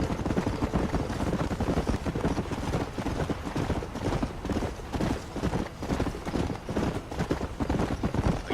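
Horse hooves clip-clop steadily in a rapid riding rhythm, close and fairly loud, in the Western video game Red Dead Redemption, with a continuous dense wash of movement behind the hoofbeats.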